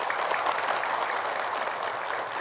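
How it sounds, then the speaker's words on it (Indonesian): Studio audience applause on an Indonesian religious talk show, a dense, steady wash of many hands clapping at even loudness throughout, with no voices over it. "Tepuk tangan Ibu."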